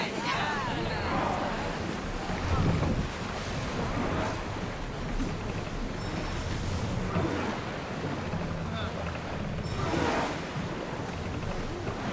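A sailing ship at sea in Assassin's Creed Odyssey, with a steady wash of waves and wind rushing around the hull, broad and continuous, and voices calling out over it.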